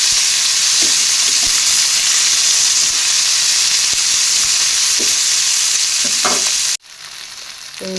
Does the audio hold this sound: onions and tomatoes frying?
yes